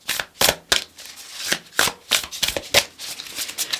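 Tarot cards shuffled in close quarters, a run of crisp riffling bursts in an uneven rhythm, with short quiet gaps between the flurries.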